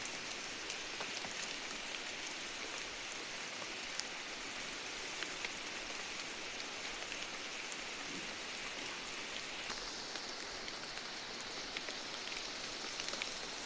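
Rain falls steadily in a forest, a continuous broadband patter and hiss that holds an even level throughout, with no voices.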